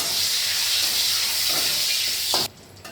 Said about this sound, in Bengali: এবার আমার তেজপাতাটাও ভাজা হয়ে গেছে, লঙ্কাটাও একটু ভাজা ভাজা হয়ে গেছে।